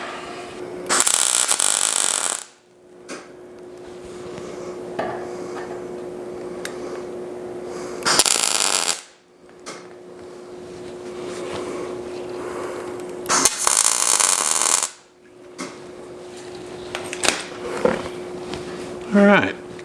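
Tack welding round tube onto a custom fabricated rear bumper, with several loud sustained bursts of hissing, crackling welding of a few seconds each, separated by quieter gaps with a steady hum and someone talking.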